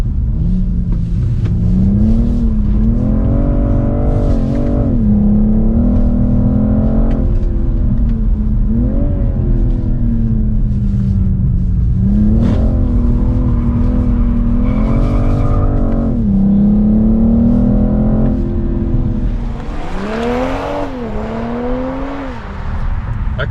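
BMW M440i driven hard on a first test drive: loud, close engine note rising through repeated hard accelerations with upshifts, falling and climbing again, ending in a sharp rev surge.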